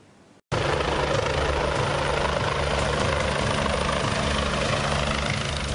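An election commissioner's helicopter roars steadily and loudly close by after an abrupt start, with a dense, constant rotor and engine wash and no talk over it.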